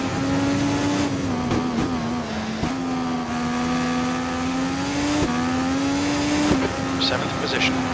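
An open-wheel IR18–IR22 race car in Automobilista at the Fundidora circuit drones with a loud, steady high-revving engine whine that dips and rises through gear changes, continuous throughout, with people talking over it.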